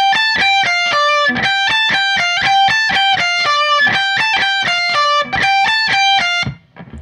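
Distorted electric guitar plays a riff, fast, evenly picked bright notes in a driving repeated phrase, loud and close with no voices, ending abruptly.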